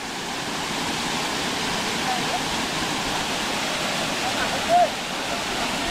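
The Devle waterfall in Devrukh, Sangameshwar, sounds as a steady, rushing roar of falling water from close by, constant and broadband from start to finish.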